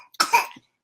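A single short, dry cough, close by and alone, ending in silence.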